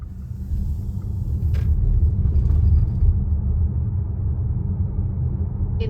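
A car drives home from Scarborough, with a steady low road rumble and engine drone from inside the cabin and no talk.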